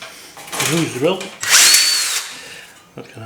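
A hand-held power drill whirs in short bursts while drilling during a bench power supply build, rising and falling in pitch, with brief pauses and some voice nearby.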